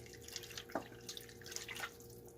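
Warm water drips and trickles softly from a tap, with a few brief splashes into a sink and no talking.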